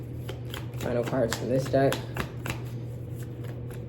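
A tarot card deck shuffled by hand, quick riffling flicks and soft card slaps that run steadily under a woman's speech.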